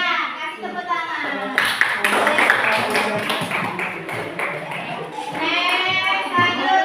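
Classroom applause fills the room as pupils clap together, with dense, uneven hand claps close by. Children's voices and chatter run beneath the clapping throughout.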